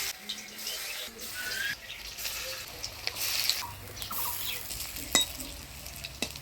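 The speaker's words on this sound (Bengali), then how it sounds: "এবার বড়াগুলা ভাজে নেব।" Leaf fritters (bora) frying in hot oil in a village kitchen, a steady soft sizzle and bubbling with occasional faint clinks and stirring, close and fairly quiet, no talk.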